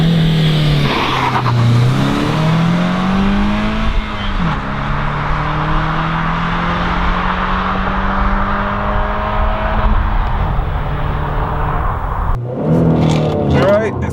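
A 2013 Honda Accord Sport with a 6-speed manual accelerates hard from 0 to 60 mph. The engine climbs in pitch through the gears, with short dips at each shift, and a person talks over the loud in-cabin drone.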